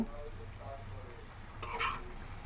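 Noodles with tomato ketchup are stirred in a pan, giving faint, close mixing and scraping sounds over a low sizzle, with a brief louder utensil clatter near the end.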